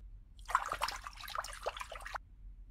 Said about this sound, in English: Go water the plant.